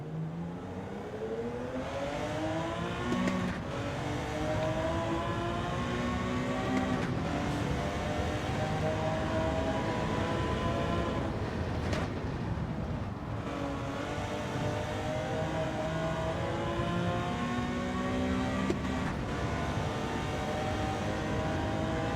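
A race car engine in Gran Turismo 7 revs high toward 9,000 RPM and shifts gears repeatedly, its whine rising in pitch, dropping sharply at each upshift, then climbing again, loud and continuous.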